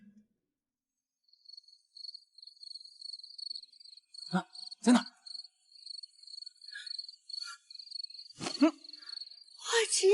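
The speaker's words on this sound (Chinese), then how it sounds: "你不是要找蛐蛐吗？" Crickets chirp at night, a steady thin trill running throughout, with short voiced exclamations and rustling over it.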